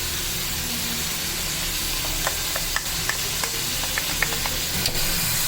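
Chicken karahi with ginger and garlic frying in a pan, a steady close sizzle and hiss with scattered light clinks of stirring.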